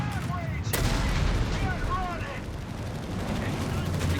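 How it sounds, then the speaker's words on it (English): Artillery fire in a Company of Heroes 3 match: rumbling battlefield booms and gunfire roll under a constant low roar, with a sharp crack early on, moderately loud over the din of combat. "Got the artillery ability there selected."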